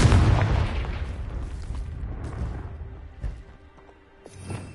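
Confringo fire spell blast from the Hogwarts Legacy video game, a loud booming explosion at the start that decays into a rumbling tail, with a few smaller thuds and pops following.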